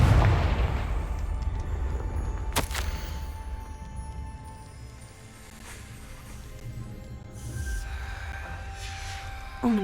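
A Confringo blasting spell goes off in the wizarding video game Hogwarts Legacy: a deep booming blast up front, a sharp crack soon after, then low rumbling debris and fading magical tones, with no speech.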